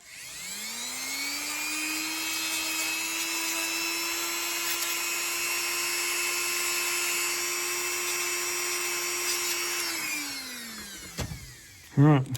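A small high-speed rotary tool spins up and holds a steady, loud whine for about ten seconds while deburring a metal slot car part, then winds down, with a brief clatter at the end.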